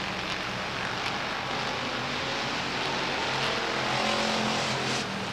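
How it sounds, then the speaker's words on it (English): A race car at Beech Ridge Motor Speedway in 1992 pulls back onto the track after running wide, its engine a steady, distant drone mixed with broad track noise and wind that swells slightly toward the end. "Has the car back underway, and he's returning to the speedway."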